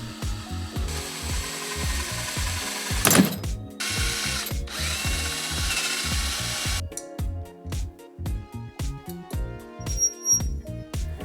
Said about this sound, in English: we have to drill out a broken exhaust stud, breaking a few drill bits in the process.